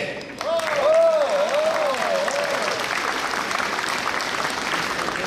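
An audience applauds at a celebrity tennis tournament in Świnoujście: a dense, steady wash of clapping that swells and then holds, with a voice speaking over it.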